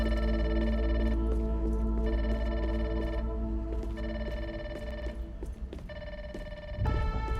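Electronic telephone ringing in Grounded 2 video game, a loud repeating harmonic ring in bursts with short gaps, steady and close throughout.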